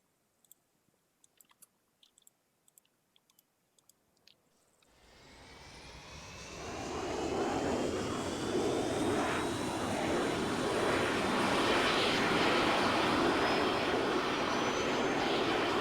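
A VTOL aircraft engine in the Arma 3 video game with a Mass Effect mod spools up after a few faint clicks, swelling into a loud, sustained jet roar with a rising whine that holds steady.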